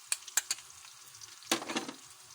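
Golden-brown fried onions in hot oil take a spoonful of garlic-ginger paste with a few quick metallic spoon taps and a soft burst of sizzling, heard faint and close with no talk.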